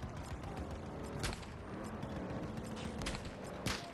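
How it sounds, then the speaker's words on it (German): Gunfire in Battlefield 2042 on PS5 rattles in a dense, continuous fusillade of overlapping shots, with a few sharper louder bursts standing out against the steady din of battle. "Jo, da sieht man die Schüsse langfliegen."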